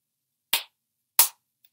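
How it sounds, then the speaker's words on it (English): Two sharp, isolated claps about half a second apart, loud and close against silence, with no voices. "that is an applause for this movie"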